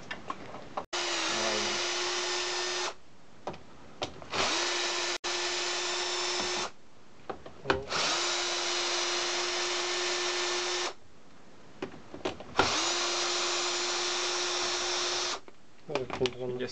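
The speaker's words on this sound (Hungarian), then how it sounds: "kézzel lazítom, és akkor már géppel kitekerem" A power tool spins out a bolt on a Stihl MS 290 chainsaw being dismantled, four steady whirring runs of a few seconds each separated by short pauses and clicks, close and moderately loud, with someone speaking in between.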